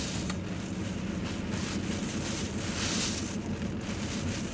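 Hurricane wind in Florida roars steadily and loudly, a continuous broadband rush buffeting the microphone with no break throughout.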